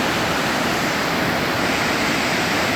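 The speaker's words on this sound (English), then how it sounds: "Look at that waterfall." A waterfall in Doi Inthanon National Park, Thailand, roars as a loud, steady wash of broadband rushing water, filling the short stretch without a break and with no voices over it.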